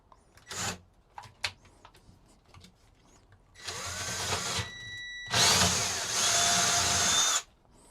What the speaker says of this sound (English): that's me 4 pilot holes drilled